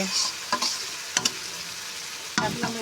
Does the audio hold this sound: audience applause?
no